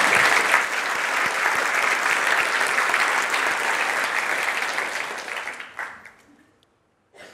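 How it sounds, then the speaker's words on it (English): Audience applause in a concert hall at the Sydney Opera House during a festival talk, a dense, loud sustained ovation that holds steady, then thins out and fades to a few scattered claps near the end. "Yeah, you can applaud to that."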